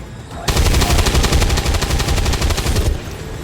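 Sustained automatic gunfire from a soldier's weapon in the turn-based strategy game XCOM 2, a loud rapid burst of closely spaced shots lasting about two and a half seconds, heard alone without talk.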